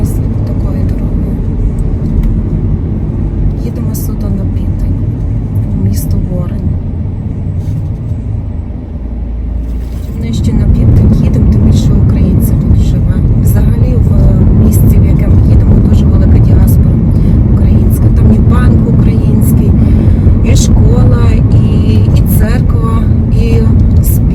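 A car travels along a highway, its steady road rumble and engine drone continuous throughout and growing louder partway through, with occasional people talking inside the vehicle.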